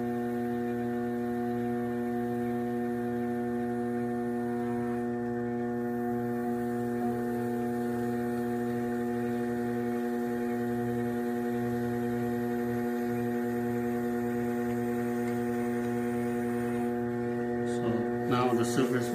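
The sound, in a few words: pottery wheel spinning fast while trimming a mug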